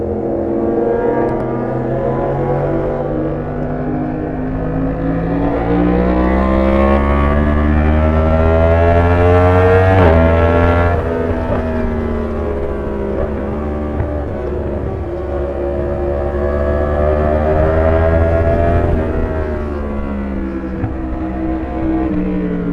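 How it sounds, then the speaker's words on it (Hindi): Two motorbikes ridden side by side through a narrow alley on a mountain route, their engine drones loud and continuous, cylinder firing beats drifting in and out of sync, rising and falling together with no talk. "जो सिलेंडर फायरिंग पैटर्न होती है उनकी आवाज़ें कभी सिंक्रोनाइज हो रही है कभी अनसिंक्रोनाइज"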